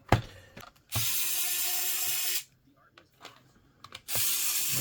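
Screws being backed out of the rear cover of a Dell laptop that powers on briefly then shuts off, a hissing power-driver whir in two long bursts with small ticks and clicks between.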